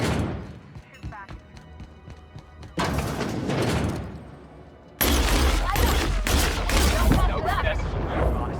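Firefight in The Outer Worlds: bursts of rapid gunfire and thudding impacts in loud, dense waves with brief quieter gaps, a voice speaking in between.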